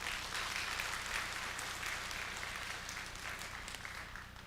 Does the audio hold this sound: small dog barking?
no